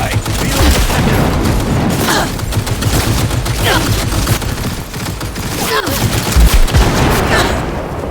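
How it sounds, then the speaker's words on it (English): Close-range gunfire in the video game Cyberpunk 2077, rapid bursts of loud shots and booming impacts layered in a dense, continuous barrage. "Firing at close range!"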